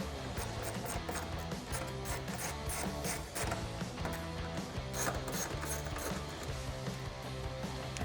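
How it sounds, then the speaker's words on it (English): An 8mm socket ratchet clicks steadily as it backs out the tail light screws on a Jeep Gladiator JT, a continuous close, loud run of rapid ratcheting with no talk. "so I've got an 8mm socket to take these out"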